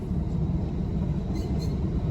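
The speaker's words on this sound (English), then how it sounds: "It's not often you get stopped by a sugarcane train." Steady low rumble of a sugarcane train rolling past close by in Bundaberg, Queensland, a continuous heavy drone with faint clatter, no voices.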